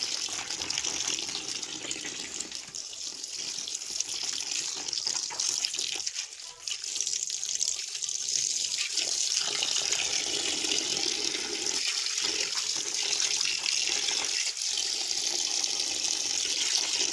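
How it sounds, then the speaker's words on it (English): Tap water runs steadily into a bucket for laundry soaking, a continuous close gush with small shifts in flow and no talk. "now I'm adding water, but halfway"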